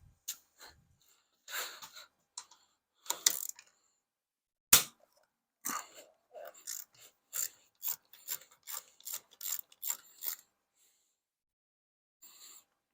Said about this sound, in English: If I could find the ratchet. Here it is.